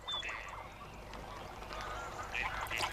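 A mallard duck calls with several nasal honking quacks in a European wetland, moderately loud over a steady outdoor background hiss, one burst early and another near the end.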